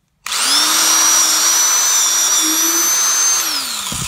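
A power drill runs at a slow 600 RPM while drilling a hole, a loud close steady whine starting abruptly and holding for nearly four seconds with a slight pitch dip at the end.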